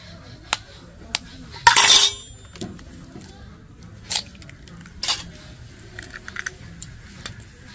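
Two eggs are cracked into a bowl in a kitchen, giving sharp light taps and clinks against the rim with a brief crackling burst, spaced out among quiet moments; no talking.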